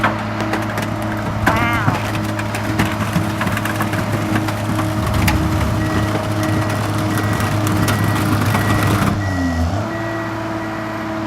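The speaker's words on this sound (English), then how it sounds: "We can crush 4 cars at a time in there" Car crusher flattening up to four cars at a time at a Pennsylvania scrap business: sustained metallic grinding and crunching over a steady machine drone, with a brief whine near the end and an exclaimed word from a bystander.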